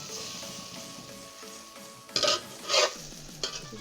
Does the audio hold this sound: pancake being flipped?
yes